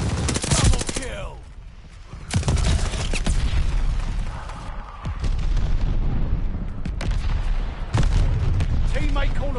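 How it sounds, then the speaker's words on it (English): A Call of Duty Vanguard mortar barrage pounds nearby with heavy booming impacts, sharp cracks and scattered gunfire, loud blasts recurring every couple of seconds over continuous battle noise, with a voice speaking briefly. "Allies calling a mortar barrage."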